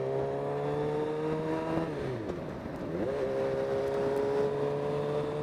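Suzuki Gixxer motorcycle engine droning steadily on a highway, dipping in pitch midway then climbing again as the throttle rolls back on, loud and close with no talk.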